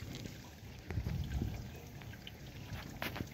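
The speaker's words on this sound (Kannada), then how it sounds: "ಪ್ರತಿಯೊಂದು ಪಾಟದ ನೀರು ಕೂಡ ಇದೇ ಪೈಪಿಗೆ ಬೀಳ್ತಾ ಇದೆ" Water from terrace garden pots drains into a shared pipe, a faint, continuous trickle and patter of dripping water heard up close.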